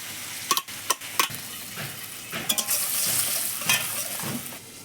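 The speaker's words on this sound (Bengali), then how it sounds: "এবার জিরে তেজপাতা শুকনো লঙ্কা ফোড়ন দেবো" Cumin, bay leaf and dried chilli sizzle in hot oil as a tempering, a close, steady frying hiss broken by several sharp clicks of a utensil against the pan, with no talking.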